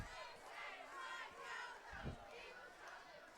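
A large crowd at a high school football game between the McCort Carroll Crushers and the Somerset Golden Eagles keeps up a low, distant, steady roar of chatter and shouting. Faint yells swell briefly within it.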